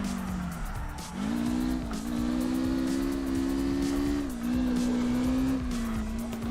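A car drifting in CarX Drift Racing Online, played on a wheel, with a loud, sustained engine drone and continuous tire squeal that wavers in pitch as the car slides, heard alone without talk.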